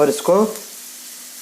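Onions frying in a pan with green chilli and ginger for boondi sabzi give a faint, steady sizzle that continues alone after a brief spoken phrase at the start.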